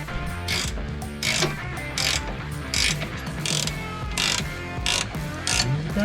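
A ratchet clicks in repeated bursts while tightening bolts on the rebuilt front end of a GMC 2500HD truck. The pulls come in a steady rhythm, close and clear, with no talking.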